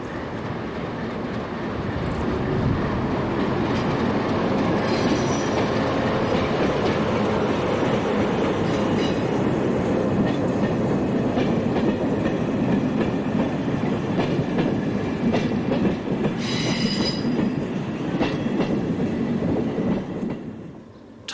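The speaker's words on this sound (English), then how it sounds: "A rare scene here at Port Alegre is of a train coming off the Estremoz branch, with number 1327 adding that extra touch of spice." A Portuguese diesel train, number 1327, coming off the Estremoz branch at Portalegre rumbles past for about twenty seconds, with steady wheel clatter, rhythmic clickety-clack and brief high squeals, before fading at the end.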